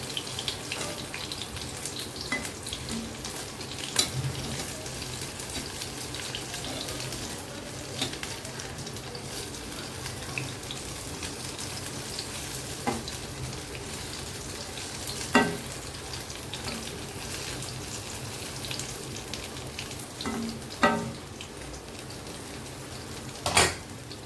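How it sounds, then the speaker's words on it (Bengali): Prawn fritters wrapped in gourd leaves frying slowly on low heat, a long steady sizzle broken by scattered clicks and clanks of utensils. "এটা মাছটা সেদ্ধ হবে, এই জন্য লো হিটে আস্তে আস্তে ভেজে নিতে হবে।"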